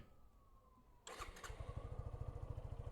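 A motorcycle engine cranks and catches after a second of quiet, then settles into a steady, rapid idle, close by.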